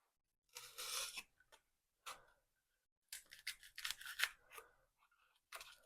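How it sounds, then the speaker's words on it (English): Old styrofoam being sliced with a blade held at a low angle during a truck canopy shell restoration, giving several bursts of crisp, scratchy cutting separated by short pauses, close and fairly quiet. "if you put it on a low angle, it cuts through like butter"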